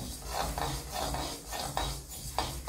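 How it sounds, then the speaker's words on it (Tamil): Black urad dal dry-roasting in a pan, stirred with a spoon in steady repeated scraping strokes roughly every half second, with a faint gritty rattle of grains close by and no voices. "இப்போ நம்ம அந்த கருப்பு உளுந்து வறுத்துட்டு இருக்கோம்."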